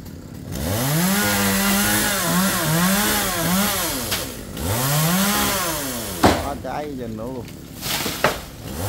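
Chainsaw cutting a large coconut or jackfruit tree, the close engine repeatedly bogging down and revving back up in long rising-and-falling surges, followed by a few sharp knocks near the end, with voices faintly underneath.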